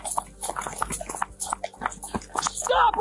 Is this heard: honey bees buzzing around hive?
no